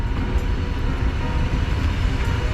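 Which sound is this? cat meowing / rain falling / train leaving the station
train leaving the station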